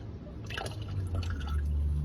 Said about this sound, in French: Oula, ça coule déjà. Vous voyez, ça coule.